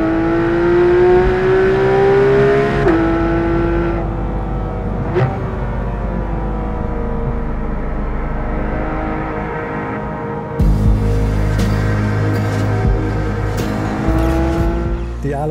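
A Porsche 911 GT3 RS drives fast on an Isle of Man road with a loud, high engine note that climbs and drops through gear changes. A brief lull comes midway before hard acceleration resumes.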